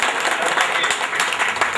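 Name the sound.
audience applause for a guest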